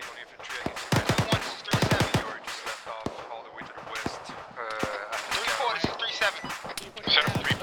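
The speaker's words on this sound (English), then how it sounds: "we're getting shots up to our southwest" Gunfire in an Arma military video game Zeus mission, bursts of rapid automatic fire and single shots, some close and some more distant, with people talking over radio at times.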